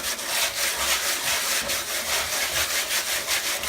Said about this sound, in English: you're going to take some 80 grit sandpaper and just go over the inside